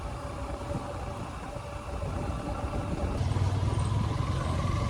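A motorbike rides along a road near Jagati, its engine a steady low drone with rushing road and wind noise that grows slightly louder toward the end.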